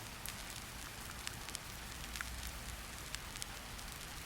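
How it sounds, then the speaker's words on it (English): Steady rain patters and drips in a continuous soft hiss, with scattered brighter drop ticks over a low rumbling bed, faint and even throughout with no voices. "the rain keeps its quiet rhythm"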